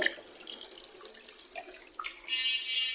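Pangas fish being washed under a running tap in a sink, a steady close splashing stream of water with small shifts as the fish are handled.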